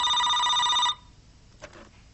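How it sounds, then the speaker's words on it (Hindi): Telephone ringing indoors in a Pakistani TV drama, one loud electronic ring burst lasting about a second that stops abruptly, then near silence with a faint brief sound. "किसका फोन है?"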